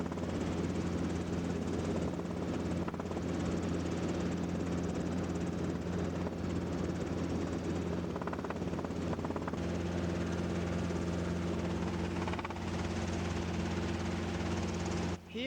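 A helicopter flies through heavy rain over flooded Kimberley country near the Fitzroy River, its rotor and engine a steady, close, loud drone with low tonal hum that runs unbroken throughout, no voices.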